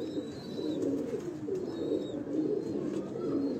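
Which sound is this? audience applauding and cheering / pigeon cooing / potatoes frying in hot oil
pigeon cooing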